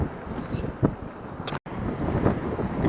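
Strong wind blows on a beach, buffeting the microphone with a steady roar and brief gusts, cut by one momentary dropout partway through, with no talk.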